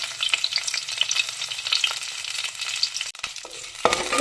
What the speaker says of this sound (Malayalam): ജസ്റ്റ് ഒന്ന് വഴറ്റിയെടുക്കാം.